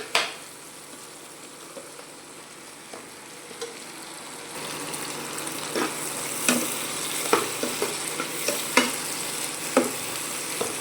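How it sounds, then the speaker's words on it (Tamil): Tomatoes sautéing in a pan for a kalan gravy, a steady sizzle and fry with scraping stirring strokes at irregular intervals, close and fairly loud, with no talking. "தக்காளி நல்லா வதங்கணும். நல்லா வதங்குற முடிக்க வெயிட் பண்ணுவோம்."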